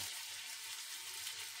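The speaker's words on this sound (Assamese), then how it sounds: "ধুনীয়াকৈ এইখিনি ভাজি লৈছোঁ" Crushed onion, garlic and spices fry in hot oil in a home kitchen, a soft steady sizzle held low and close, with nothing else audible.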